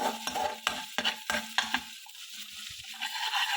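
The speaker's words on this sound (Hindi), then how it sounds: "थोड़ा सा पेस्ट को थोड़ा सा 1-2 मिनट फ्राई कर लीजिएगा, उसके रॉ स्मेल जाने तक।" Ginger-garlic masala paste frying in a pan for butter paneer masala, with repeated sharp spoon scrapes and taps against the pan over a light sizzle, close up, then a quieter, sparser stretch of frying.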